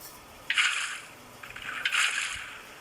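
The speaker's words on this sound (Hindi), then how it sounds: "इधर मैं पानी डाल देता हूँ।" Water poured into an opened container, two separate pours of rushing, splashing liquid, the second longer, close and fairly loud with no talk.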